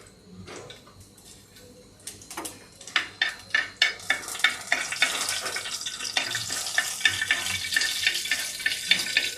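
Fennel seeds hit hot oil in a pan while cooking a traditional crab gravy, crackling and sizzling with rapid sharp pops that build in density, alongside scraping stirs of a spoon against the pan.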